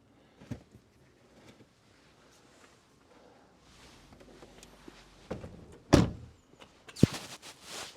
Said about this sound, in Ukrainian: Така нерозбовтана двері. Дуже класно зачиняються, як в новій машині